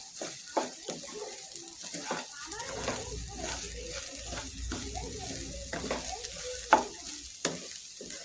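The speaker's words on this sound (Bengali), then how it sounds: "পোলাওটা আমি ভালোভাবে ভেজে নিচ্ছি" Polao rice frying and being stirred in a pan with a little oil, a soft steady sizzle broken by scraping strokes of the spoon, under quiet talk.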